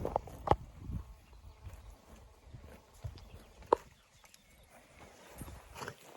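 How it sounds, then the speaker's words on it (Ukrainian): Horses at Vladimirovka shifting about nearby, with a few sharp hoof knocks and scattered stamping over a quiet outdoor background. No one speaks. "показати вам свої коні"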